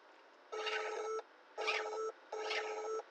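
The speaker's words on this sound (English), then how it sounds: "it plays a note with a frequency of 440 Hertz" A Thymio robot sounds a 440 Hz note three times, each a clean, buzzy electronic beep lasting about half a second, separated by short gaps.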